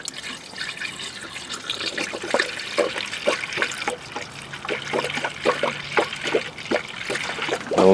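Coolant poured into the radiator of a 1998 Toyota Camry during a radiator replacement, a steady trickling stream broken by a run of regular glugging pulses, close and moderately loud with no talk.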